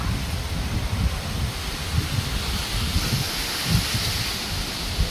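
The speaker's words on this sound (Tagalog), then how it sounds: "malakas yung hangin" Steady gusty wind roars and rustles through trees, a continuous broadband whoosh with occasional stronger low buffets against the microphone.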